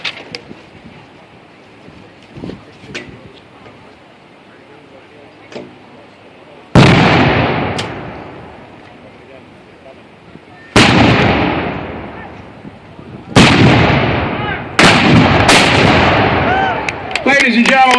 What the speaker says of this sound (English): So, on the swivel gun. Battery, fire by the piece from the left.